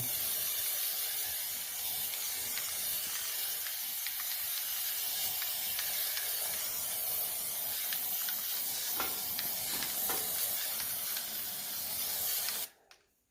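Continuous hiss of white powder being sprayed from a can, a steady close airy jet running for about twelve seconds before cutting off abruptly, alone without talking.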